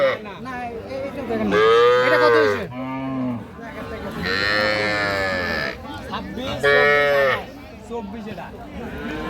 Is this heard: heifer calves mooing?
yes